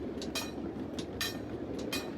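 A miniature live-steam ride-on train of the Southern California Live Steamers runs at Wilson Park in Torrance, California, with faint, distant, rhythmic clicks and rattles over a low steady rumble.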